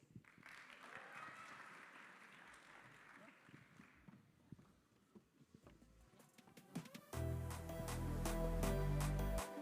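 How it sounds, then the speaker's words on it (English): An audience claps at the MTC Namibian Annual Sports Awards 2022, a fairly quiet patter of applause for several seconds before loud music kicks in and takes over. "Ladies and gentlemen, please, a round of applause."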